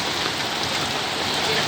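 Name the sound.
rain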